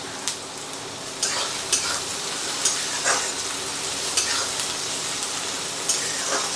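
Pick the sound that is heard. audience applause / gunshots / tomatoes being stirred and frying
tomatoes being stirred and frying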